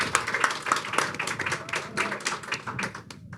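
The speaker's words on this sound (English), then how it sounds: "please give a round of applause to yourselves for coming out" Scattered clapping from a small audience at a labor movement live event, uneven and fairly close, with a few brighter tones mixed in before it tapers off.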